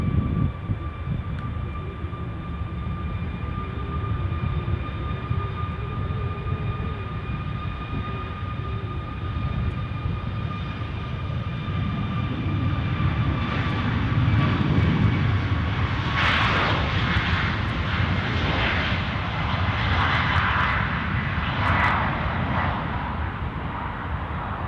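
A KLM airliner taxiing at Edinburgh Airport gives a steady, loud jet engine whine with sustained tonal hums, swelling into a rougher, louder roar partway through as it moves closer.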